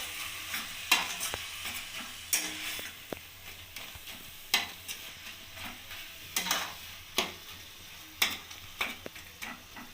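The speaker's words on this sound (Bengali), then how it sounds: "ধনেপাতা কুচিটা দিয়ে আমি ভালোভাবে নাড়িয়ে নেব" Mashed eggplant bharta with chopped coriander is stirred in a pan. A spoon scrapes and clicks against the metal in irregular sharp strokes over a quiet low sizzle, close by, with no speech.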